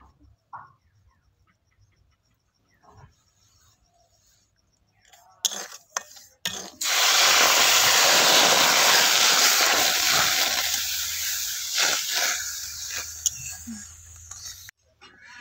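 Water poured into lightly toasted semolina in a pan, a sudden loud hissing sizzle that swells then slowly fades over several seconds, preceded by quiet clinks of a bowl and soft handling noises, with faint speech nearby.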